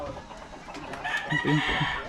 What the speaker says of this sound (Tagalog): yung manok, ang ingay talaga